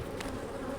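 Honey bee buzzing close by during an inspection of a hive frame holding brood and nectar, a steady insect hum with a brief brighter flare partway through.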